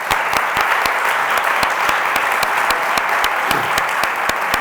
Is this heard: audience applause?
yes